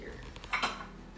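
A baking pan for vegan brownies is set down and handled in a home kitchen, giving a couple of brief metallic clanks near the middle over quiet room tone.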